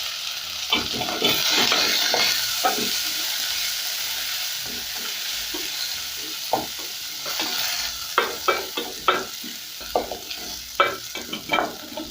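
Beef sizzles in a pot with ginger and garlic, a continuous frying hiss broken by a series of scraping, clattering stirring strokes that grow more frequent toward the end, close and without voices.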